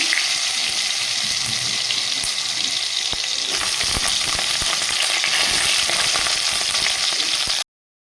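Vegetables, potato and drumstick dropped into hot mustard oil with five-spice seeds, frying with a steady loud sizzle and crackle and occasional stirring scrapes, no talking.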